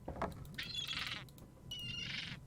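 A seagull in the Monkey Island video game gives two harsh, nasal squawks in quick succession, close and clear above a quiet low background.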